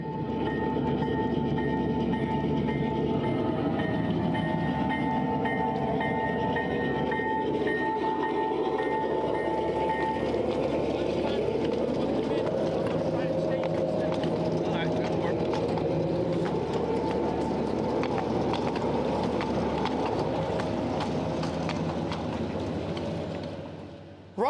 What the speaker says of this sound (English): Next to depart are Ken's Santa Fe F7s following right behind.